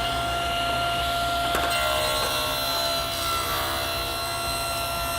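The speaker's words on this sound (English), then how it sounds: "turn it on and let's cut a couple of strips" A table saw rips wood strips for table legs, its blade whining steadily with a low motor drone and a rasping cut through the wood, continuous and fairly close throughout.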